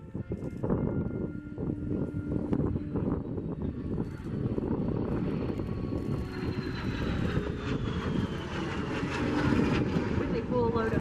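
De Havilland Vampire jet flying a display at an air show, a steady roaring engine drone with a slowly sweeping whine, loud and continuous, with an announcer talking over it.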